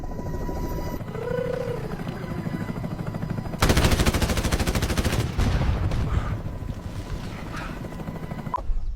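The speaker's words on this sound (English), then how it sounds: "Time to test the miniguns on Yeti's ex-wife." Helicopter miniguns fire in a video game, a dense rapid buzzing burst of several seconds over a continuous rotor and engine drone, with scattered game sounds before and after.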